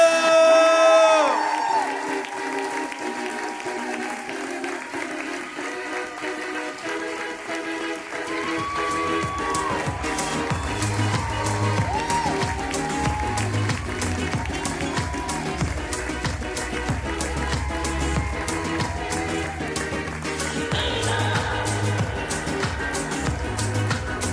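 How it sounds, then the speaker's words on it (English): A crowd at a high-school fashion show cheers and applauds steadily and loudly while thumping runway music plays throughout, the noise holding at a constant level from start to finish. "Help me give a huge round of applause to Lucia Lou!"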